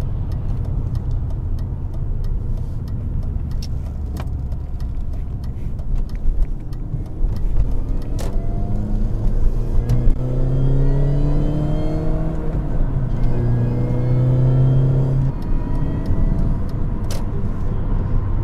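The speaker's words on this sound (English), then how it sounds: "That unmistakable supercharger sound." A supercharged R53 Mini Cooper engine hums and then revs up, a rising supercharger whine climbing repeatedly through the gears as the car accelerates nearby.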